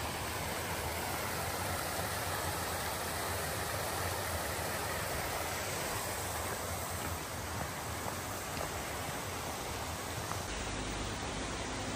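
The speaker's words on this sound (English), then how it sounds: "It's nice to hear the Cascades like that." A cascading waterfall along the Appalachian Trail pours with a steady, broad, close rush that stays unbroken for the whole stretch and has no voices over it.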